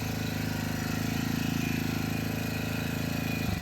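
An engine runs steadily at idle with a throbbing, even rhythm throughout, loud and close, before cutting off abruptly at the very end.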